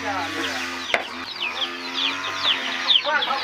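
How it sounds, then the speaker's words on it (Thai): Chickens clucking and chirping nearby in a steady scattered chatter, with a low farm-animal moo and a brief knock in the background. "ตัวนี้ก็จะเป็นไก่น้อยเนาะ"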